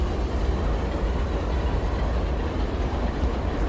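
A train rolling on rails in the video game Trainz across coal fields, a dense steady low rumble of wheels and cars with no voices.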